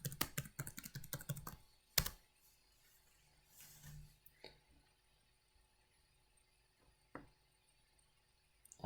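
Login credentials typed on a computer keyboard: a quick burst of close key clicks, then a few isolated taps and clacks separated by quiet gaps.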